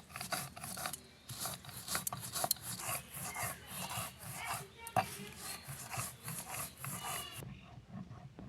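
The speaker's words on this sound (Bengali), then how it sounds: "সব কিছু বেটে নেওয়া হয়ে গেছে" Thankuni leaves are being ground with black cumin and sesame into a paste, giving a steady near rasping and rubbing scrape with repeated strokes and brief pauses, heard alone without talk.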